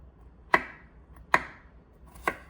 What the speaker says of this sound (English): the last vegetable we need to chop up is the broccoli